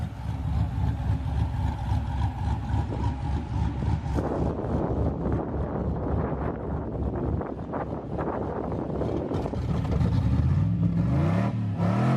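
A Jeep truck rock crawler's engine runs steadily with a low rumble and some wind buffeting, then revs climb toward the end. The sound is close and loud, with no talk.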